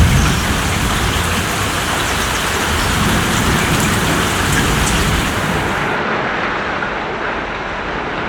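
Heavy rain pours down in a dense, continuous hiss of drops striking surfaces, loud and steady throughout with no voices.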